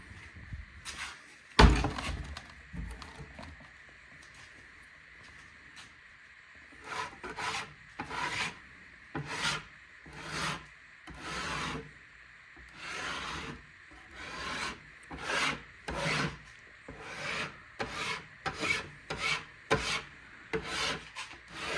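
Softened paint is scraped off wooden kitchen cabinets after Goof Off, in repeated rasping strokes in an uneven rhythm, preceded by a single knock. The scraping is close and fairly quiet, with no talk.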